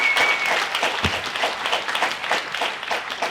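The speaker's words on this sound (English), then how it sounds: "Y'all can clap for them because you know what happened." Audience at a lab coat ceremony breaking into sustained applause, many hands clapping together in a steady, crowded wash of sound with no speech over it.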